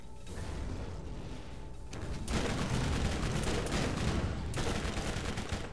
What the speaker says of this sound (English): Just gonna just keep shooting